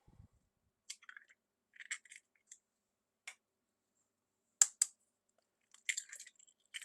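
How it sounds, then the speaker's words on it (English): Eggs cracked one after another for a vanilla chiffon sponge batter, giving sparse sharp taps and clicks of shell with quiet gaps between, close and fairly faint. "just going to start cracking the eggs"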